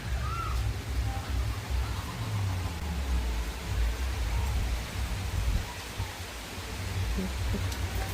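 Steady rain falls outdoors in a hot season, wetting chickens, making a dense, even hiss that continues without a break, with a faint crow-like call in the distance.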